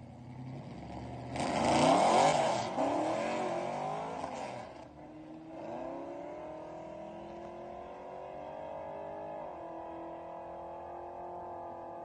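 Grudge race cars launch at a drag strip with a loud burst of engine roar that fades into a long, distant, steady whine as they run down the track.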